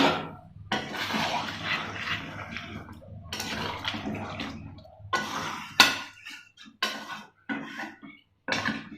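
Marinated chicken pieces, cut large, tipped into a cooking pot with a little water for homemade biryani, giving a run of wet splashing pours and clattering bursts with short pauses, close and moderately loud.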